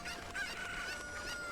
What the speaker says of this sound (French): J'ai une poule qui s'est barrée